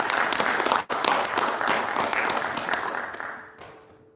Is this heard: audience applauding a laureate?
yes